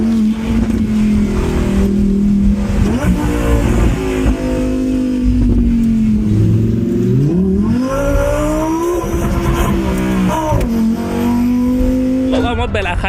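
A Lamborghini sports car's engine drones loudly throughout, its pitch rising and falling as it revs and accelerates, with tire noise and people talking over the engine.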